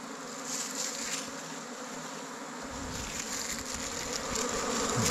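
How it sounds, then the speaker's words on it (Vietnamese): A swarm of wild honey bees buzzes densely around their hive, a steady close hum filling the air and growing slightly louder and fuller toward the end. "Ong nó bầu quá nhiều luôn. Vừa đánh nhau với kiến với lại tập trung vào cả mình nữa."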